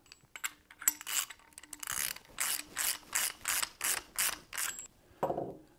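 A threaded pipe fitting wrapped in Teflon tape is screwed together by hand, giving a run of rhythmic ratcheting clicks and scraping turns, close and fairly quiet, with no voices.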